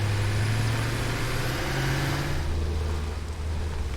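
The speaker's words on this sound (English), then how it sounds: "The tractor is really loud." A tractor engine in the video game Satisfactory drones loudly with a low, steady hum, then the volume drops as the game audio is turned down.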